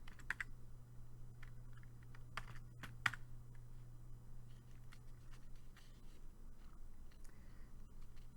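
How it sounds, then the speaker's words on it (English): Computer keyboard keys tapped at a pharmacy workstation to enter a prescription Rx number, a quiet run of irregular clicks over a steady low hum, with no talking. "I'm going to type in my RX number"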